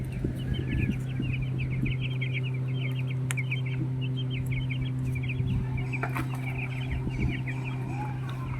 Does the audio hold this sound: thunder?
no